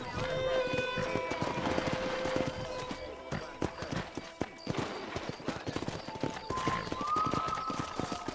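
Hooves clip-clop at a quick, uneven pace as horses are wrangled in Red Dead Redemption, with tonal game effects and a horse whinny mixed in.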